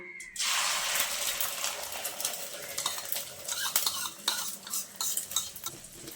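Egg omelet frying in well-heated oil in a pan, a steady bright sizzle with spatula scrapes and utensil clinks across it, close and with no talking.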